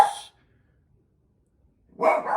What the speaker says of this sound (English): That my dogs aren't just barking for no reason.